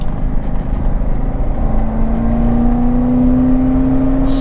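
C6 Corvette ZR1 engine on a winding mountain road, a steady low rumble from inside the car with a rising whine as it gently accelerates, continuous and fairly loud.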